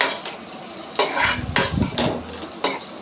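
Mixed vegetables frying Assamese style in a pan with ground cumin and jaluk pepper, heat turned low: a soft steady sizzle under several sharp utensil scrapes and clinks as the pan is stirred.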